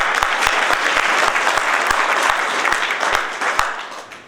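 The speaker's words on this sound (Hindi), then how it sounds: "उनके लिए जोरदार तालियां" An audience at a college moot court event claps loudly and steadily for several seconds, a dense wash of applause with faint rhythmic thumps underneath that tapers off slightly toward the end.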